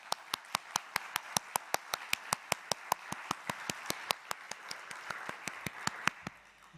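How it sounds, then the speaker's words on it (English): Faint applause for panelists at an energy technology conference, a single steady run of evenly spaced hand claps that keeps a quick, regular rhythm and fades at the end. "So I would like you to applaud the panelists"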